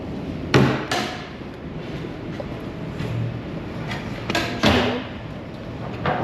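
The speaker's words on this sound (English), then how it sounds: "Now it's got to tighten these 4 bolts." Bolts being tightened on the motor mount of a Pisten Bully snow groomer tiller during a bearing repair, with a few sharp metallic knocks standing out over a steady mechanical background.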